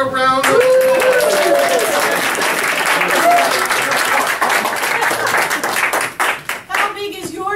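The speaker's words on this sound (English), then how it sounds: "a round of applause." A Christian improv comedy audience bursts into loud, sustained clapping and cheering, with voices and whoops mixed in, tapering off near the end.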